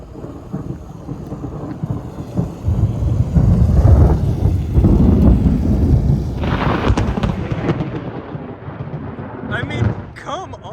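Thunder rolls during a lightning storm in Houston, Texas, a loud, sustained rumble with rain and wind noise that swells in the middle and fades toward the end.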